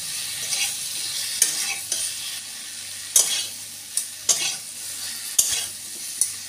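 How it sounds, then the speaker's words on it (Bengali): Cauliflower and tomato sautéing in a pan, sizzling steadily while a spatula scrapes and stirs with sharp, repeated clinks every second or so, close and clear with no talk. "টমেটো দিয়েও কপির সঙ্গে একটু ভালো করে কষতে হবে।"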